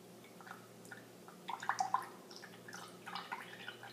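Juice poured slowly from a container, giving quiet close-up liquid trickles and drips with a brief stronger splashing burst in the middle, alone without talk.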